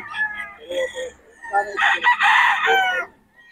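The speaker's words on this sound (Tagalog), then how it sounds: "Ano to, stag? Stag mga idol kay Boss Ben." A young rooster, a stag at a farm, gives a close, loud crow that rises and holds for over a second, with clucking and a human voice around it.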